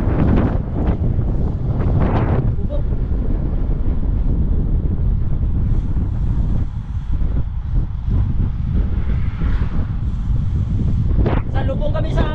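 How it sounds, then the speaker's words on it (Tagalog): Strong wind roars and buffets the microphone during a road-bike endurance ride toward Sisteron, loud and continuous throughout, with people talking under the gusts at the start and near the end. "Lubong kami sa hangin."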